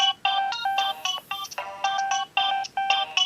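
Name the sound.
Nokia 2115i phone superphonic ringtone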